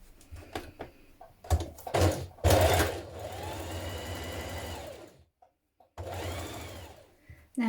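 A sewing machine stitches a side seam of a beginner's top in short whirring bursts, then a longer steady run, a brief pause, and another run, close and fairly quiet.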